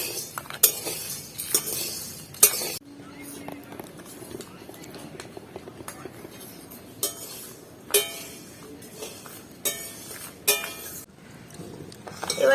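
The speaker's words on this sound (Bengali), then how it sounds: "এবার আমি আমুল দুধ নিয়ে নিয়েছি এটাও দিয়ে দেব এগুলো সব একসাথে মিশিয়ে নেবো" A spoon stirs an Amul milk mixture in a container, bursts of quick clinking scrapes against the sides with pauses between, while someone talks throughout.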